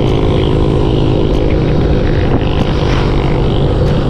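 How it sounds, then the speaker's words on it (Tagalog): A motorcycle with a very loud exhaust roars close by in a dense, steady drone that does not let up. "Grabing ingay ng tambutso nun."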